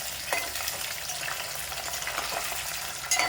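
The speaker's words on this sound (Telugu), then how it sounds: "వేయించుకునేటప్పుడు కొంచెం ఎడంగా ఉండి వేయించుకోవాలండి. ఎందుకంటే చిట్టపట్లాడుతూ ఉంటుందండి ఆయిల్ మీద పడింది అనుకో" Food fries in hot oil with a dense, steady sizzle and scattered sharp spluttering pops, heard up close without any voices.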